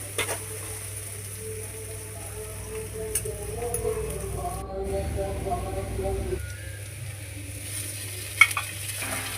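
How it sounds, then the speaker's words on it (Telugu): Finely sliced onions frying toward golden brown in a pan for kaju paneer, a steady low sizzle with occasional stirring clinks, under a constant background hum. "ఇప్పుడు ఇందులో మరో సన్నని తరుగు వేసి ఖచ్చితంగా గోల్డెన్ బ్రౌన్ కలర్ వచ్చేంత వరకు వేపి తీరాలి."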